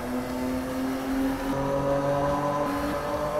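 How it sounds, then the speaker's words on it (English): Race car engine in Need for Speed (2015) revving and droning steadily with a strong, sustained tone that shifts pitch midway, loud and close with no talk. "This car sounds good, though."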